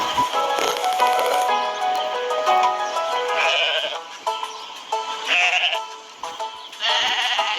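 A goat in a town setting bleats several times in wavering cries, loud and close, amid steady background music with no talk.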